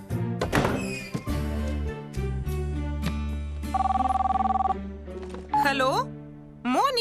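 A cartoon mobile phone rings with a repeating electronic tone for about a second amid musical score and sound effects, with voices before and after.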